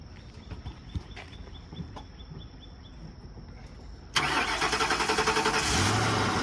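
A wrecked car at a towing auction cranks and starts after a few seconds of quiet rustling, jumping to a loud, steady idle that runs on up close.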